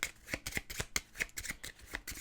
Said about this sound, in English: Then we are going to shuffle these cards.